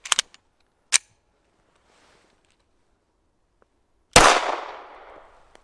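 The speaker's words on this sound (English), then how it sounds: "we're going to go ahead and fire a shot and see if we can penetrate this cheap body armor" Single 9mm pistol shot using Federal American ammunition fired into cheap body armor, a sharp loud crack with a decaying echo, preceded by a few faint clicks and handling taps in an otherwise quiet space.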